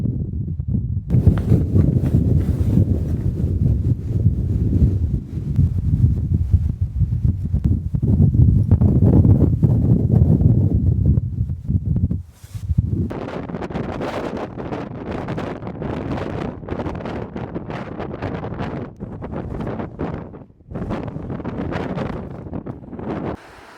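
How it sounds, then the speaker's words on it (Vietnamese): Strong, gusting wind buffets the microphone while hiking in Iceland, a loud, continuous roar with heavy low rumble in the first half, turning more broken and blustery after a brief lull midway, with no talking. "Đang gió kinh hoàng lên mọi người ơi,"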